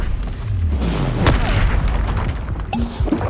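Bombarda blasting spell from Hogwarts Legacy erupts in a dense, rumbling explosion, with a sharp crack partway through and a second burst near the end amid continuous game noise.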